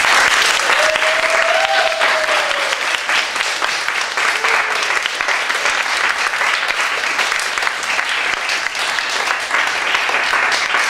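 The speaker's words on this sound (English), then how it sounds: "I think that is a sign that we should applaud our panelists." An audience at an academic thesis presentation event applauds its panelists with steady, dense clapping that holds loud and even through the whole stretch, with a faint voice briefly audible beneath it near the start.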